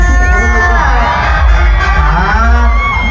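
Young women at a Thai festival shouting and cheering together, a loud dense crowd roar with whoops rising and falling throughout.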